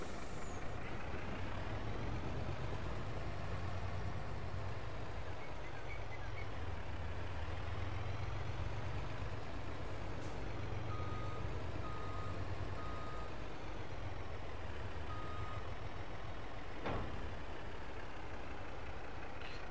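Delivery truck in a farming video game, its engine droning steadily at low pitch while intermittent reversing beeps and a hiss like an air brake sound over it, with no one talking.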